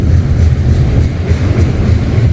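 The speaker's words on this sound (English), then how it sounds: "So it looks like we got a hot Z train here." A hot Z freight train rolls past at close range in Rochelle, Illinois, a loud, continuous low rumble with steady wheel clatter and no voices.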